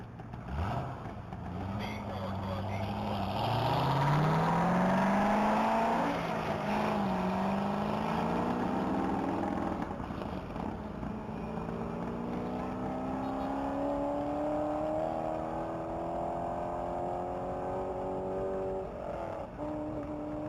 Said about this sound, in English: On deck is vehicle number 84, it's Wayne Porter again, and his 2008 Corvette Z06